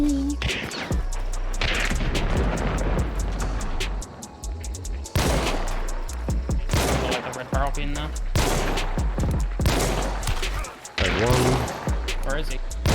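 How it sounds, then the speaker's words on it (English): Lemat Carbine shots in Hunt: Showdown, a run of loud, sharp reports fired in quick bursts, some rapid and close together, while people talk over the gunfire. "Wow, the fire rate increase is really nice on the Lemat Carbine."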